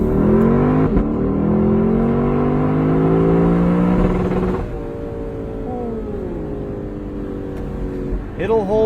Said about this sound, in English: that has got to be one of the most intoxicating rev limiters on sale today